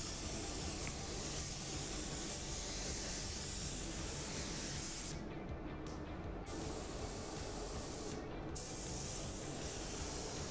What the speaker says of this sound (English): I do spray solvent base paint, so I like to spray my control coat when the base is still wet.